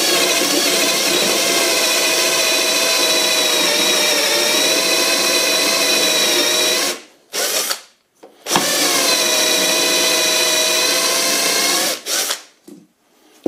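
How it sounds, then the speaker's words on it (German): A 20 mm Forstner bit bores steadily into wood, a loud continuous drill whine that stops twice briefly near the end before cutting through again. "Für die kleinen nehme ich einen 20 mm Forstnerbohrer. Und dann kann ich das im Prinzip recht gut aufbohren."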